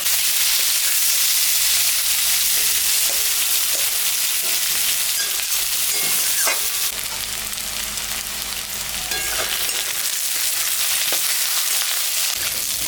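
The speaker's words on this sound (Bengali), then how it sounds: "আলু আর পেঁয়াজ একসঙ্গে ভাজা ভাজা করব।" Potatoes and onions fry together in hot oil that has been tempered with dry red chillies. The sizzle is loud and constant, with occasional stirring scrapes and no talk.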